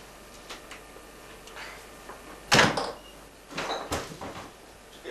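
A door creaks and thumps open with a sharp knock-like bang, followed by a couple of softer bumps and rattles against a quiet room background.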